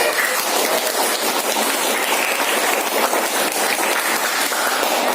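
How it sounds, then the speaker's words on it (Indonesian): Students clapping in a classroom during a lesson, a dense, continuous patter of many hands at fairly close range, steady and loud throughout without pauses or talk. "Tepuk tangan tuh Yui."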